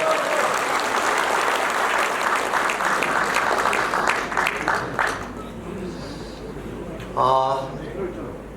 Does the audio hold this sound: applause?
yes